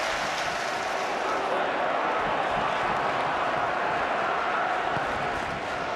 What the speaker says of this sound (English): Deafening roar from the crowd in full voice